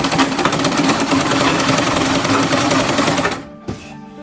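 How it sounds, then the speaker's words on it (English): Sewing machine stitching the joint of a shirt sleeve, a loud, fast continuous mechanical whir with rapid needle rhythm, close up, stopping abruptly near the end with a single clack afterward. "Okay, let's sew the tip of the hand."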